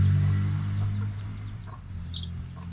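Small chickens, including a little rooster, clucking softly close by over a steady low hum, with a few brief bird calls scattered through the short stretch.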